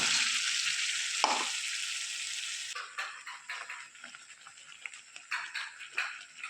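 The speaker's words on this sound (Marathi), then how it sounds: "कढईमध्ये तेल टाकायला ठेवलं त्यामध्ये मिश्र मिश्रण टाकलं" A loud, steady sizzling hiss of a blended spice paste hitting hot oil in a kadhai, then settling into quieter, uneven crackles and spits, heard close up without voices.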